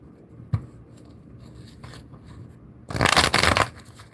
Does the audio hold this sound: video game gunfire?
no